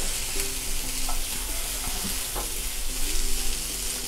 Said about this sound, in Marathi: आता हे असं चांगलं गॅस मी मोठा केला आहे थोडासा, म्हणजे भाज्या चांगल्या त्याच्यावर परतल्या जातील